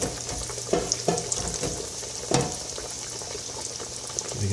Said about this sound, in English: You can hear it just sizzling on up.